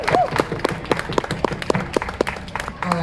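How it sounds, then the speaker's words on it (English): Light, scattered clapping from an audience at a Democratic political speech, sharp individual claps spread unevenly over about three seconds with voices mixed in. "So can we all give them a big round of applause?"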